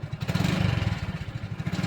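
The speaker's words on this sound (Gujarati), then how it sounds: "ચાલુ તો થઈ ગયો બાઈક" A motorcycle engine runs close by with a rapid, even thumping pulse, a steady idle with no other sounds over it.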